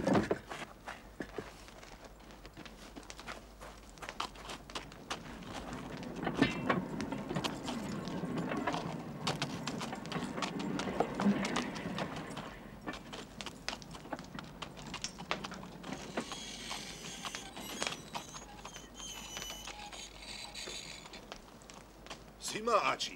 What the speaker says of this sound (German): Da rennt ja ein Pferd rum.